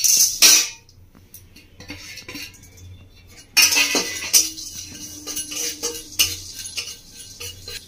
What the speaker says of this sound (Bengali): তো এটা আমি শুকনো কড়াইয়ে ভেজে নেব